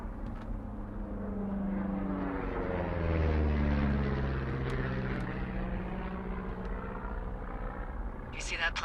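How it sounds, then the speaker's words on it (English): Firefighting airplane droning overhead in the Firewatch game: a steady engine hum whose pitch slowly bends as it passes, swelling to a peak at mid-clip and then fading, with a faint click at the end. "You see that plane? Hard to miss."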